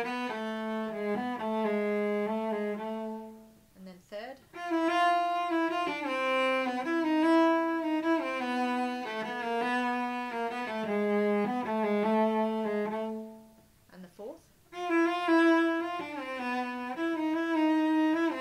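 Cello playing a Paganini passage in repeating note groups with the second note of each group held longer, giving a lilting uneven rhythm; close and clear, with two brief pauses between phrases.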